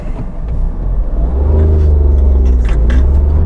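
Petrol Tata Tiago hatchback accelerating on the road, its engine rumble rising steadily in pitch and loudness as revs build, heard from inside the car with no talking.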